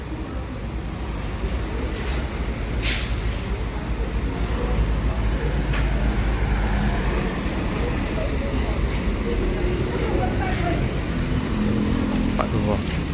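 Pangandaran–Palembang intercity bus idling or rolling nearby, a steady low engine rumble under road and traffic noise, with people talking over it throughout.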